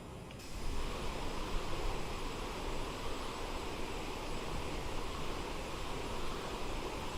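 Aerosoft CRJ 900 jet engines in Microsoft Flight Simulator 2020 on a flight to Ketchikan, Alaska, a steady broad roar with rushing noise, constant and unbroken, heard alone.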